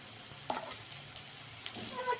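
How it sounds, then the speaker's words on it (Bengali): Boiled potato added to spices frying in a pan, with a soft steady sizzle and a few quick scrapes and knocks of a spoon, fairly faint. "মশলাটা বেশ ভাজা ভাজা হয়ে এসছে, আর এখন দিয়ে দেবো আলুটা।"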